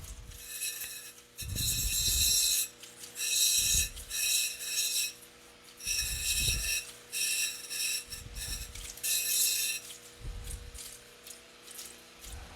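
Opal is gently sanded on a 360-grit wheel, giving soft rhythmic rasping scrapes in short bursts over a faint steady motor hum, quiet and close, with no talking.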